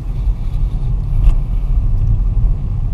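A learner driver's car engine rumbles low and steady, building gently as the driver gives more gas to raise low revs, with a continuous close drone and no talk over it.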